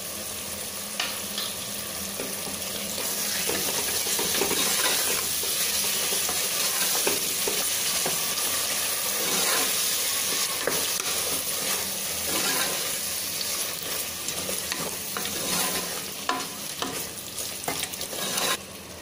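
Curd (yogurt) being added to a tomato masala for chicken biryani, with a loud continuous sizzle and repeated stirring scrapes of a spoon against the pot, steady throughout with no speech.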